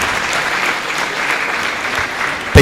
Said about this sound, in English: let's appreciate him with a resounding round of applause.